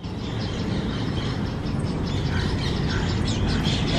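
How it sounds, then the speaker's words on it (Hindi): Many baby birds chirp inside a nest with a small round entrance, giving faint rapid high cheeps over a loud, steady background rumble. "अच्छा है ची ची करके आवाज़ आ रहा है"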